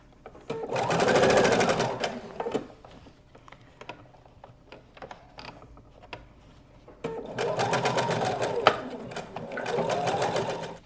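A sewing machine stitching a fabric bread bag, two loud bursts of rapid mechanical whirring and clatter close by, separated by a quieter stretch of handling and soft clicks.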